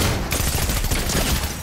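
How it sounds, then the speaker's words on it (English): A quick, dense burst of gunfire crackles through a Fortnite match, loud and close, filling the short moment with rapid overlapping shots. "We can't be in the open, they're fucking shooting at us!"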